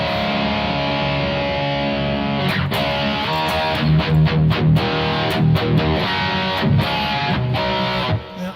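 Electric guitar played through the Tone Journey preset on a Roland Boss eBand JS-8, giving a sustained, distorted lead tone with effects, loud and steady with no talking.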